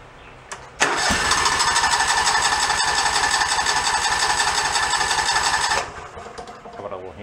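A John Deere engine is cranked without the choke, catches abruptly and runs loud and close with a rough, steady roar for about five seconds, then cuts out and leaves quiet.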